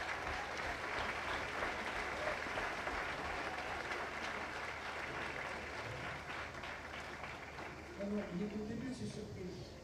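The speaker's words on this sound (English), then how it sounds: "Let's give him a round of applause." An amphitheatre audience at the 2023 Rencontres Économiques d'Aix-en-Provence applauds to welcome Edouard Philippe: dense, steady, loud clapping that fills the hall without a break and swells slightly toward the end.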